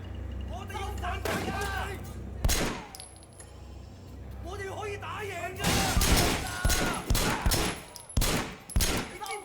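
Gunfire in the video game Sleeping Dogs, loud sharp bursts and rapid volleys of shots, close and punchy, interleaved with someone talking over the action.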